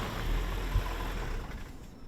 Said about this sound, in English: I'm big on testing the automatic engine stop-start systems